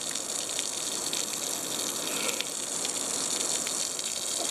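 A garden hose sprays a steady gushing stream of water while rinsing a motorcycle, a constant hiss with no talking.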